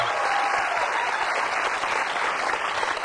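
Studio audience on an Indonesian TV talk show applauds continuously, a loud, even rush of many hands clapping at once.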